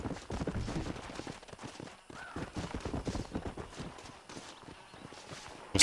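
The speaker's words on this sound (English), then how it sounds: "Mas por que esse cavalo tá muito doido?" Horse hooves in the video game Red Dead Redemption, a steady run of clip-clop hoofbeats close by, mixed with game ambience and a brief loud burst at the end.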